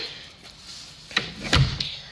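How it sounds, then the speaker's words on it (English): An interior door in a house under renovation is pushed shut, a soft rustle followed by a single close latch thud with a short rattle. "So I'll shut that door again."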